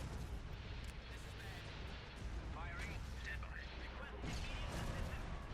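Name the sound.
starship gunfire in video game Star Wars Republic at War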